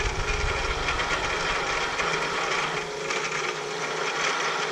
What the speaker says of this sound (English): I am gonna very slowly countersink these holes.